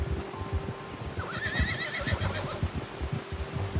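A horse whinnies in Red Dead Redemption 2, a rising and falling neigh over steady hoof clip-clop and a low game-world rumble, close and clear.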